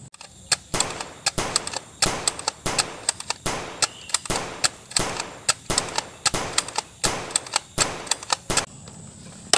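Blue toy blaster gun firing rapid, regular sharp cracks, about two per second over nearly ten seconds, loud and close with no talking.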